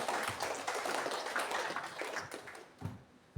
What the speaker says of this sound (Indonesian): Tepuk tangan buat guru bahasa Inggris.